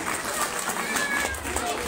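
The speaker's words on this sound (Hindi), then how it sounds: "जोरदार तालियां फिर से इसके लिए प्लीज" Audience applause fills a gathering in Nirmand held for a young KBC contestant: steady, dense clapping throughout, fairly loud and even, without clear breaks.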